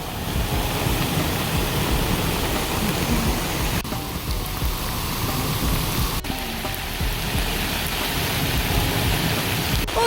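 A steady downpour beats on a Coleman Sundome tent in a storm, a constant loud hiss of rain on the fabric with no speech.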